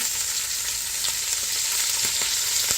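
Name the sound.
bacon sautéing in a pan before adding cabbage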